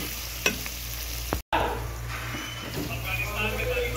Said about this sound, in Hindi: अभी देखो पनीर को फ्राई कर रहा हूँ।